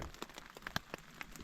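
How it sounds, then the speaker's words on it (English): Rain falls in the early morning, scattered drops tapping and pattering close by at an irregular rhythm, soft and alone. "It's raining."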